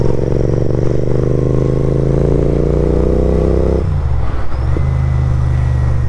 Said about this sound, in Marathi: enjoy the ride, enjoy the power, enjoy the rawness of this bike